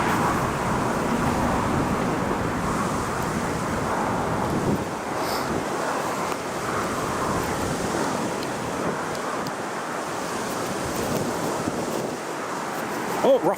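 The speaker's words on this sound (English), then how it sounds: "lower the wind noise a bit. You can probably all hear it is fairly windy." Steady wind buffets the microphone at an airport, a continuous low roar and rumble lasting throughout with no break.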